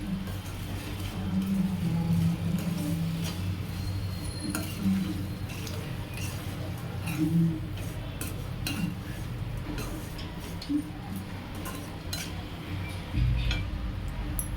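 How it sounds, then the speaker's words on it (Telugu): Gongura curry with dried fish being stirred in a pot, with soft repeated clinks and scrapes of a spoon against the metal over a low steady hiss of cooking, fairly close and continuous without talk. "ఇప్పుడు వీటిని మంచిగా కలబెట్టుకోవాలి."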